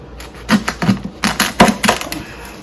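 A sharp knife chops through the end of a corn cob on a cutting board, giving a quick series of crisp, close cuts and knocks with short pauses between them.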